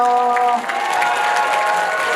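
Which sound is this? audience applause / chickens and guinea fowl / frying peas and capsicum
audience applause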